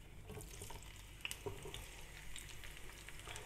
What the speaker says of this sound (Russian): И отправляю лук в раскаленное масло.